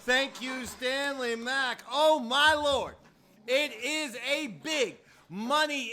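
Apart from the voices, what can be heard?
None of the usual background noises is heard.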